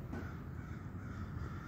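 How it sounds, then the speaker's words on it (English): A huge flock of crows, thousands of them, flies overhead and caws, making a dense, distant wash of overlapping calls with no single bird standing out. "How many crows are there? Look at these birds,"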